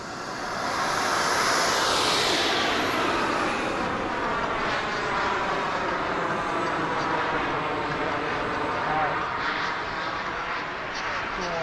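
L-39 Albatros jet taxiing out at an airfield during a jet rally air show, a steady loud turbine whine and broadband roar holding for the whole stretch with a voice heard over it.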